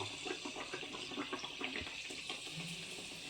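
Potato bhaji, potato slices coated in besan batter, dropped into hot oil and frying with a steady, bubbling hiss that carries throughout, a few soft splashes on top and no talking.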